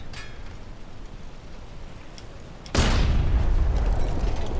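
Torpedo launch and impact from a submarine in the game Wolfpack: a quiet rumbling stretch broken by a sudden loud boom that swells into a sustained, heavy roaring blast.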